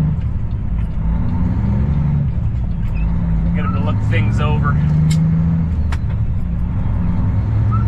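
Old Blue, a truck, rumbles steadily from inside the cab on the drive to a mechanic shop, with someone talking over the engine drone and rain-like patter.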